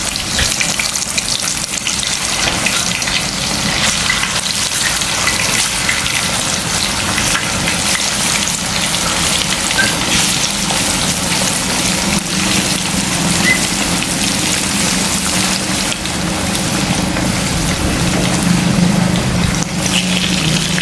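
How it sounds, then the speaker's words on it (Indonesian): Tempeh and tofu sizzling in hot oil, a dense, steady crackling hiss that holds evenly loud throughout with no talking. "di sini kita mau goreng tempe tahu"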